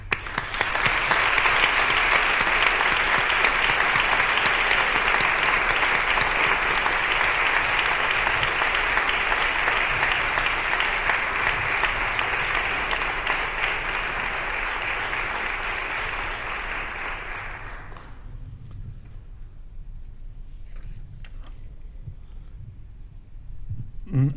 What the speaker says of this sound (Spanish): a quien desde aquí le pido un fuerte aplauso en reconocimiento de nuestro cariño y entrega